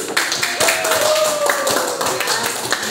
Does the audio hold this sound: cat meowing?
no